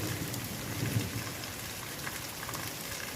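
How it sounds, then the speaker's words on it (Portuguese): Heavy rain falls steadily in Taperoá, Paraíba, a dense, even hiss of drops on surfaces with no pauses and no voices, moderately quiet and constant throughout. "Aqui tá chovendo, graças a Deus, desde ontem."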